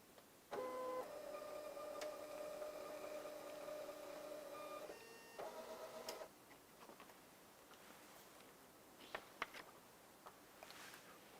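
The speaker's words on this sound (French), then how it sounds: "si les informations sont correctes, vous cliquez sur Imprimer" A printer prints vote results close by: a steady mechanical whirring run of about five seconds, a short second burst, then scattered faint ticks and clicks in a quiet room.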